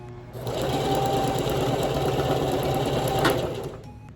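Sewing machine running steadily for about three seconds while stitching ribbon trim onto a tutu, a close, continuous mechanical whir with a quick stop and restart near the end for a back stitch.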